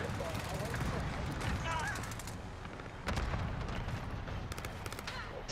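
Video game gunfire from a heavy-recoil weapon, with bursts of rapid shots and booming reports over a busy battle din, with a voice talking in the background.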